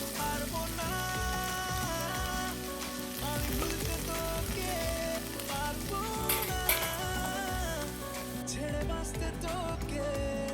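Potatoes fry in a pan on a gas stove, a dense continuous sizzle with crackling pops and faint utensil clinks, close and steady with no talk over it.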